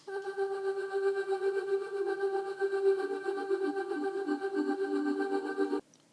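Vocal chops processed through a Portal, Valhalla Supermassive and Ableton Tremolo rack for atmospheric lofi, forming a sustained shimmering pad with steady pulsing, alone and fairly loud, cutting off abruptly near the end.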